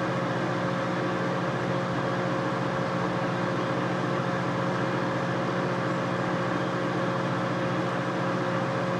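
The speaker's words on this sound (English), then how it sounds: "It's cycling on and off because it's only on power 2." A 1987 GE SpaceMaker II microwave running on power level 2 gives off a steady, close mechanical hum with a constant drone and fan-like whir, unbroken throughout.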